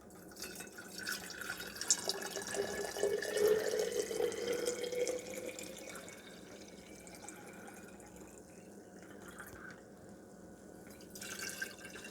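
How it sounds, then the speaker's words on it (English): Water pours and trickles into glass jars, the pitch rising as they fill, then quieter drips and a faint clink afterward. "we're going to add water to our glass jars"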